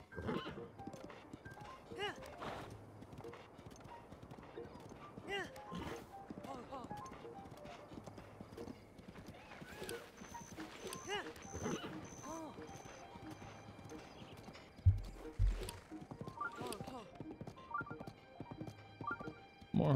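Horses in Zelda: Breath of the Wild give occasional neighs and clip-clopping hooves, with soft thuds and a sharp knock, while a person talks over much of it.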